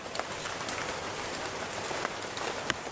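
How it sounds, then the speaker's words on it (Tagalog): Heavy rain pours steadily onto a surface, a dense, even hiss with scattered louder drops, alone and without voices throughout. "sobrang ulan dito no"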